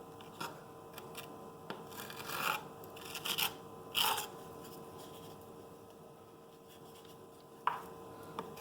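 Putty knife scraping across subway tile backsplash during kitchen installation, scattered short rasping scrapes and taps, some in clusters, with quiet pauses between, close and fairly faint.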